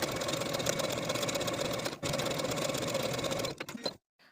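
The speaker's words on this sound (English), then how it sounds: "Sew the waistband to the bottom of the bodice with a 3/8 inch seam allowance." A domestic sewing machine runs steadily at speed, joining a jumpsuit waistband to the bottom of the bodice, with a brief pause near the middle before it stops abruptly into silence.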